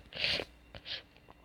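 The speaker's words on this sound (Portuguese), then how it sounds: "Eu vou dar espirro de novo." A single sharp sneeze, close and loud, followed by a softer second burst and a quick sniff.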